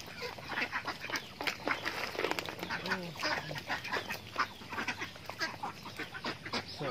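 Ducks quack busily and repeatedly as they feed on snails, a dense overlapping flock chatter close by with no talking.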